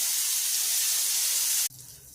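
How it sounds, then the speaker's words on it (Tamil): Dried fish fries in hot oil with a loud, bright, steady sizzle and hiss close by, which cuts off abruptly near the end to a quieter background. "இந்த கருவாடை வறுத்துக்குவோம்."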